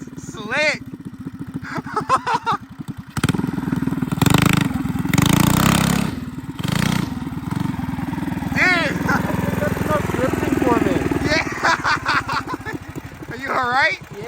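Small engines from a mini bike, go kart and three-wheeler riding through snow buzz and rev continuously, close by, while people talk and shout over them.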